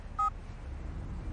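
A mobile phone number is dialled, producing a single short, soft keypad beep early on against a quiet background hiss.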